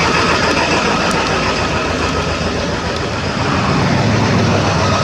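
A truck engine idles right after its first start following a breakdown, a loud, steady, rumbling drone close by with no talking over it.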